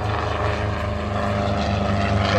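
A helicopter flies at the Old Buckenham airshow, its engine and rotor blades giving a loud, steady drone with rotor pulsing that stays constant across the short stretch. No talking is heard.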